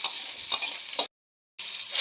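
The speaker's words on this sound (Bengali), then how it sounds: "এইবারে একটু ভাজা ভাজা করে নেব" Chopped potatoes and onions with whole cumin fry in hot oil in a wok, a steady close sizzle broken by a few stirring scrapes, cut by a short gap of silence before the frying resumes.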